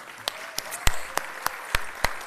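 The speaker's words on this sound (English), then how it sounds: "how about a big round of applause?" A crowd at the PropertyGuru Asia Real Estate Summit on a Bangkok stage claps in a sparse, scattered round. Distinct sharp claps ring out roughly every third of a second in a quiet hall.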